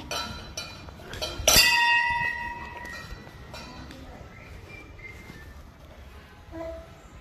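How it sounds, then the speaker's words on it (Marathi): A metal temple bell is struck once, clear and ringing, then its bright tone fades away over several seconds, with faint talk and background noise around it. "वाजूया घंटी."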